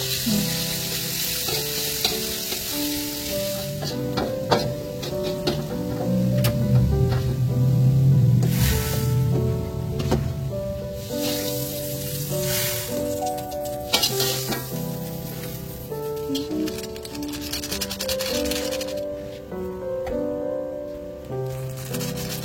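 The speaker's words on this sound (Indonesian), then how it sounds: "di sini aku mau numis dulu bawang merah, kemudian bumbu uleknya juga tinggal disatuin aja" Shallots and ground spice paste sautéing in a pan for a simple home-cooked meal, a steady close sizzle with stirring, continuous throughout without talk.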